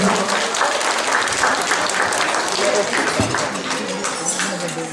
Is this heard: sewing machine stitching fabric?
no